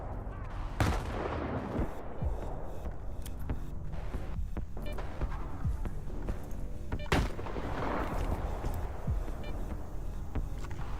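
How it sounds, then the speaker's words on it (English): Gunfire and grenade blasts in the video game S.T.A.L.K.E.R. 2, with dense repeated shots and several sharp, loud explosions around the first second and at seven seconds over a constant rumbling battle din. "Let's go ahead and make use of these grenades here very liberally, since they insist on throwing some at us."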